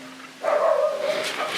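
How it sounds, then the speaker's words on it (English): Dogs give a single short bark at moderate distance, rising out of quiet room tone. "I don't know why my dogs keep on barking."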